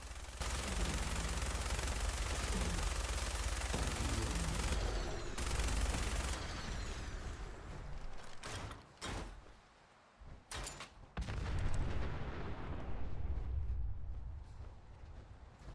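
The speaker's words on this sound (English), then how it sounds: "with a couple of well-placed shots from Lucy, the two of them were able to defeat the Deathclaw" Dense gunfire in the video game Fallout 4, with rapid volleys of shots running almost continuously and breaking off into a few sharp, separate bursts partway through, loud and with no talking.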